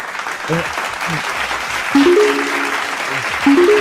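Clapping during a sports talk show on Dallas Cowboys training camp, a steady patter of applause under a voice and short musical tones.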